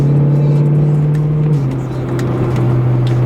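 A BMW E90 M3 drives along a quiet road, its engine a steady, loud drone that dips briefly in pitch before settling back to an even cruise, with no voices over it.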